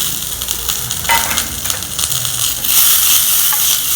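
Peanuts roasting in a hot pan with a steady crackling sizzle and scraping as they are stirred, close and fairly loud, with no voices.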